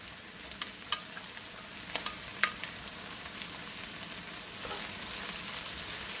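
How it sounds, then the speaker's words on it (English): Chopped garlic and browning onion fry in a pan for Guyanese cook-up rice, with a quiet, continuous sizzle dotted by scattered small pops and crackles throughout. "And now both of these two ingredients to fry up for maybe 30 seconds or a minute."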